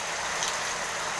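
Steady rain falling outdoors, a dense even hiss of drops that stays constant at moderate level throughout with no talking.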